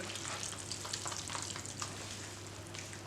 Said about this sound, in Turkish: Bu şekilde karıştırıyorum.